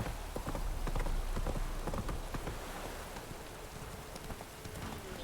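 Roach the horse in The Witcher 3 clip-clops along in an uneven rhythm of hoof strikes, set against a dense, hissing rain-like background.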